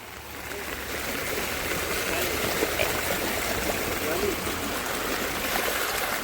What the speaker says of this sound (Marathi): इथून किती पाणी जोर आणि फ्लो आहे